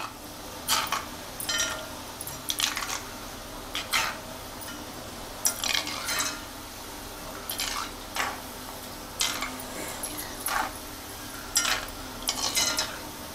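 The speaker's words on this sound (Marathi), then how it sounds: "आरतून परतून ढवळून घ्यायचे, म्हणजे आपली शंकरपाळी चारी बाजून शेकाक वयत. आणि मंद आचेवरच हे शेकून घ्यायची." Shankarpali, layered flour pastries, being turned and stirred in hot oil over a low flame, with a steady soft sizzle punctuated by regular sharp scraping and clinking strokes of a spoon against the pan, close and without talking.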